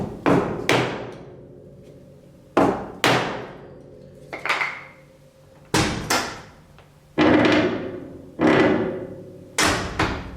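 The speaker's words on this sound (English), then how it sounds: "Normally, I don't recommend hitting your truck with a hammer." A hammer strikes the door of a 1967 Chevy C10 Stepside truck, about ten sharp metallic blows in uneven clusters, each ringing briefly before the next, close and loud.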